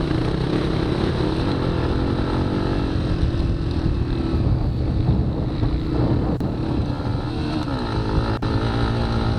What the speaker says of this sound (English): you can see the big mud puddle coming up, and I said, oh, he's going to go to the right, I'll just go right through it